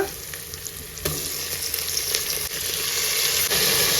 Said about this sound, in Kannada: ಇಲ್ಲಿ ಆನಿಯನ್ ಚೆನ್ನಾಗಿ ಫ್ರೈ ಆಗಿದೆ. ಇದಕ್ಕೆ ಟೊಮ್ಯಾಟೊ ಹಾಕೊಳ್ಳೋಣ.